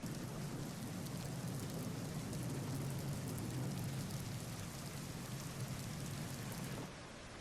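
Monsoon rain pours down steadily, a dense, even hiss of drops on surfaces with a low rumble beneath, fairly quiet and unbroken, tapering slightly at the very end, with no speech.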